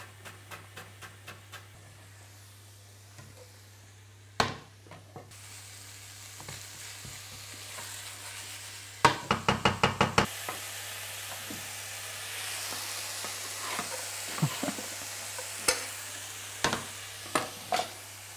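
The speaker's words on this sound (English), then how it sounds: "I like to add my vegetable in with the meat at the beginning, just so I can get a bit of colour on the vegetable as well" Minced turkey and vegetables stir-frying in a pan, with a soft continuous sizzle broken by bursts of sharp, rapid spatula clicks and scrapes. Louder flurries of strokes come near the middle and toward the end, over a low steady hum.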